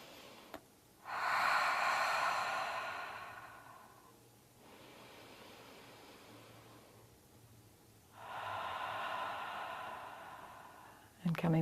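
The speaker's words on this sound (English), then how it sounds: "Make your exhale known." Two long, audible exhales during a seated chair yoga stretch, each a soft breathy whoosh lasting about three seconds, close and clear with a quiet pause between them.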